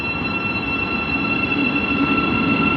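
Intercity train on the Midland Main Line at Hendon station, a steady loud rumble of rolling stock with a persistent high whine, continuous and close throughout.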